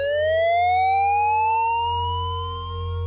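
Volcanic lahar emergency warning siren at the Mount Ruapehu ski area, a loud steady wailing tone rising slowly in pitch and sustained throughout, with a low rumble beneath and no voices.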